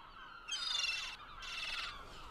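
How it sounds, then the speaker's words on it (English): Two shrill, drawn-out gull cries ring out one after the other over quiet background noise, faint and somewhat distant. "Hear those annoying seagulls circling over our heads?"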